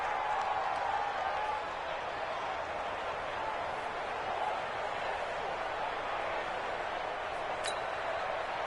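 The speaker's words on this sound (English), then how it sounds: "The crowd getting into it as we come up on a big 3rd down." Simulated stadium crowd in the Madden 20 football video game, a steady broad roar of cheering and applause at moderate distance, continuous and fairly faint throughout.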